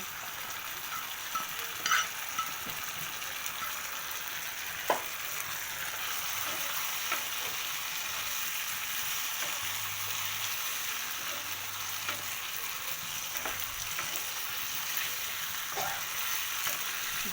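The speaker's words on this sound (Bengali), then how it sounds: "তো আমি এখন চিকেনগুলো দিয়ে দিচ্ছি" Chicken pieces frying in a pan for chilli chicken, a steady dense sizzle with occasional stirring clinks, heard alone with no talk.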